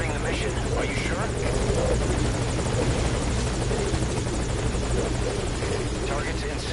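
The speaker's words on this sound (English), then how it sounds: "If you get on that chopper, you'll be aborting the mission." Steady, loud helicopter rotor beat and engine whine from the Metal Gear Solid V video game, hovering close and unbroken, with game voices speaking over the drone.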